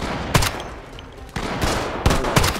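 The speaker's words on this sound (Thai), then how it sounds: "ปืนไอ้ MG อ่ะยิงได้ป่ะนี่ข้างหลัง" Machine gun fire in the zombie survival game Project Zomboid, heard as three loud, sharp bursts of rapid shots separated by short pauses, each with a sustained crackling tail, with no talking.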